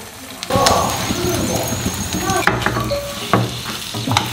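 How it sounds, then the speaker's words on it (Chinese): A Chinese chive pocket pan-fries slowly over low heat, giving a loud continuous sizzle punctuated by sharp clatters and scrapes of a spatula against the pan. "上锅，这个用小火慢慢煎。"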